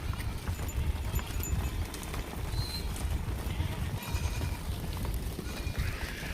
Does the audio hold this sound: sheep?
yes